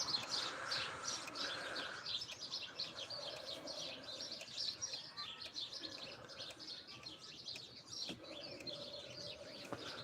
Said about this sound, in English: we got a lot of them birds landing right here in front of us now